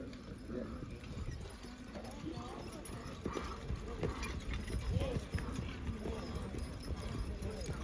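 Hooves clip-clop steadily from a draft horse team at a charity horse pull and wagon drive, a continuous rhythmic thudding over crowd noise, with people talking throughout.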